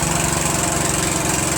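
A small gasoline engine on a Mikasa plate compactor, a Honda GX160 type, runs loudly and steadily with a rapid chugging pulse, close by in a garage.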